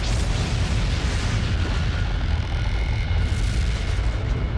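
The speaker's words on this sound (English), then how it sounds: "The explosion blows away the cloud of dust and rock and leaves behind a naked, newborn star." A deep, sustained explosion effect for a newborn star igniting in a space documentary: one continuous, loud, booming roar that fills the whole stretch without letting up, with no voice over it.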